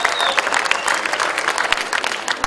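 Sustained applause from an audience at a local Quranic chant festival competition in Guelma, 2015, steady dense clapping filling the whole stretch with no break, fairly close and loud.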